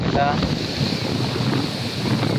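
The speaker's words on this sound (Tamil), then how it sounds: "சரியான காற்றடிக்குது." Strong wind roars continuously during a rainstorm, a dense broadband rush buffeting close against the microphone, with no voices heard.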